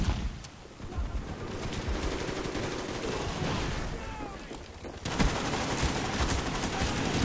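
Gunfire in Call of Duty Black Ops rattles in rapid bursts, dense automatic fire crackling and popping close by, continuing for several seconds with a louder volley near the end and no speech over it.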